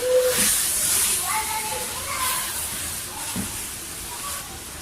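Chicken liver (kaleji) frying in its own tomato juice in a masala pan, with a continuous hissing, steamy sizzle and faint spoon clinks, and a voice briefly speaking over it.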